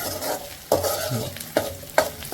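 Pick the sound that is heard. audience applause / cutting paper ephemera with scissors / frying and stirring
frying and stirring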